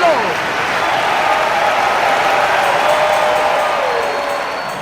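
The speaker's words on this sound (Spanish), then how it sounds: "Aplausos, pero también júbilo." A church congregation breaks into applause and cheering during a sermon: dense, steady clapping with crowd cheers, fairly loud throughout, easing slightly toward the end.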